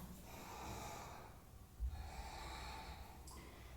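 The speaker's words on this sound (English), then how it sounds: "Breathe in, breathe out." Breathing during a yoga flow: a soft airy inhale followed by a slightly stronger exhale through the nose, faint and close, with a light thump midway and no speech.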